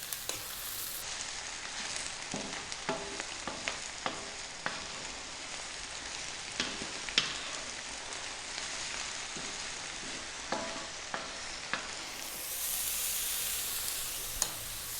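Mushroom fried rice stir-fries over high heat, giving a continuous close sizzle broken by frequent sharp scrapes and clacks of a utensil against the pan, with no talking.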